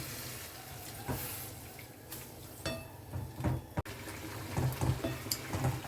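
Water runs and splashes into a cooking pan set up to boil red amaranth greens, a soft, close pouring with a few clinks of the pan.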